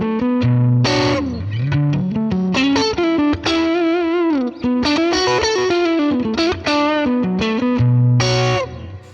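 An electric guitar runs through a Zen Drive overdrive pedal into a Fender Princeton amp model on a Fractal Axe-Fx. Sustained chords and melodic bends ring with warm, mildly driven tone, loud and continuous, with no talking.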